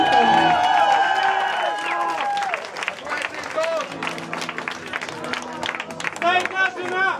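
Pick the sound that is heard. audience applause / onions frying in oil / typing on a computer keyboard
audience applause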